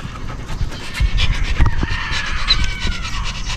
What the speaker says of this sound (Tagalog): dito ay matyaga akong hinihintay ng aking mga alagang aso at sila'y nagugutom na